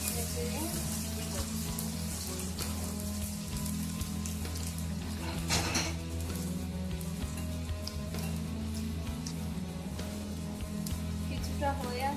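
Garlic frying in spiced oil in a pan for garlic pickle, a steady dense sizzle with spattering crackles and occasional stirring scrapes, while a voice talks over it.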